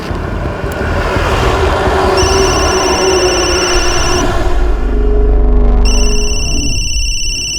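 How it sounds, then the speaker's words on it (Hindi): A phone rings with repeated electronic tones over a loud, steady rumble of engine and road noise, the ringing pausing and then resuming near the end. "फोन उठाओ संजय"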